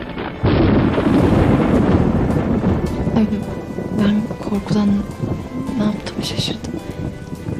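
Storm with a deep rumble of thunder and steady rain, the loud roll starting abruptly and lingering under a brief spoken line.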